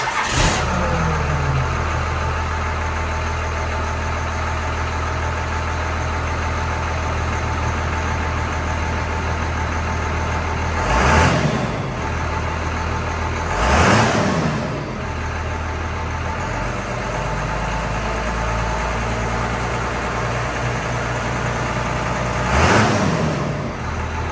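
A first-generation Cummins 12-valve diesel pickup engine idles with a steady low rumble before a 4-inch exhaust install, then revs up sharply three times, each burst rising and falling back to idle.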